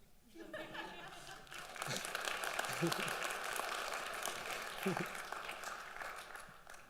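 Audience applause fills a college convocation hall, steady and sustained clapping across the room with a few scattered voices and laughter mixed in.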